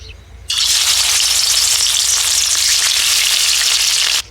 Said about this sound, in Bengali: সর্ষের তেল দিয়ে দিচ্ছি